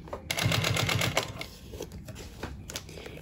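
A sewing machine stitches a zippered fabric pouch in a rapid mechanical burst, then falls quiet as the fabric is shifted and turned, leaving faint handling noises.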